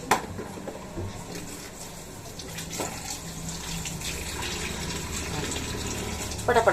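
Tap water runs steadily while carrots are washed at a kitchen sink, a continuous splashing stream close by with people talking over it.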